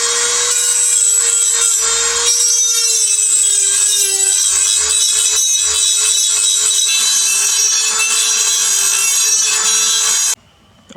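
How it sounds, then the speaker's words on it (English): A Dremel grinds back body filler during rust repair on a Toyota Hilux, giving a continuous high-pitched whine with scraping texture for about ten seconds before cutting off abruptly. "Just need to get the Dremel on it, grind it all back"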